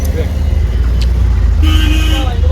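Busy road traffic at the entry gate of Qutub Minar in Delhi, with loud steady engine rumble and a brief car horn toot partway through.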